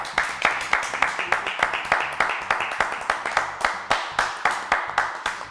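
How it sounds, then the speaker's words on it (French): Studio audience claps in a steady burst of applause for The Jones on a French TV show, close and fairly loud, with sharp rhythmic hand claps throughout and no talk over it. "Bravo, applaudissements pour The Jones."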